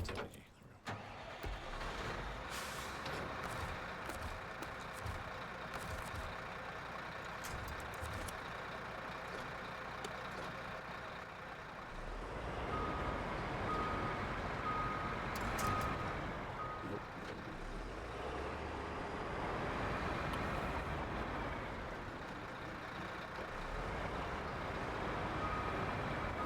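Diesel engine of a Western Star 770 truck in SnowRunner, idling then revving louder and steadier in the middle, with short hissing bursts and beeps near the start.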